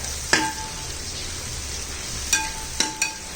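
Onions sautéing in a pan over a wood-fired stove for Kerala-style pork vindaloo, a low steady sizzle with a few sharp metallic spatula scrapes and clinks, no talking.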